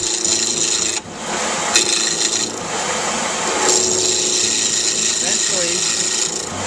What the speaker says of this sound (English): now I'm moving the chisel up against the blanks, starting to take the edges of the blanks off.